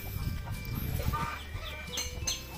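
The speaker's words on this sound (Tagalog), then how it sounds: "Masisigla yung manok ngayon." Farm chickens, including brooding hens with newly hatched chicks, cluck softly and intermittently in the distance over a low background hum.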